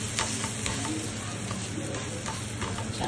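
An onion paratha fries in butter on a pan, a continuous close sizzle with faint crackling and soft ticking pops, steady and even throughout with no talk.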